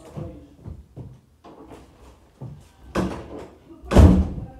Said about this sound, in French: Porte fermée extrêmement mal.